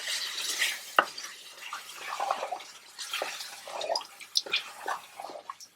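Mutton frying with yogurt in a pot, stirred with a utensil: wet sizzling and bubbling with irregular scraping and clinking strokes, close and moderately loud.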